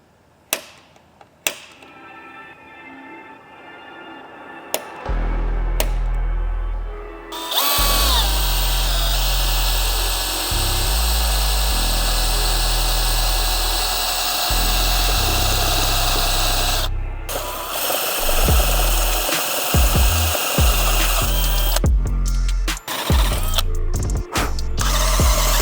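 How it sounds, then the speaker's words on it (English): A power drill bores 3/8-inch holes through a truck door for rivet nuts, heard as several sustained high whirring bursts with short pauses and clicks between them, close and loud. "take our drill bit and drill the holes out to 3/8"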